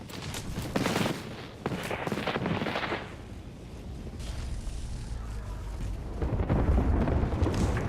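An airstrike lands in a battle royale video game, with a string of heavy booming blasts and crackling bursts, loud and close, rolling into a sustained rumble that swells again toward the end.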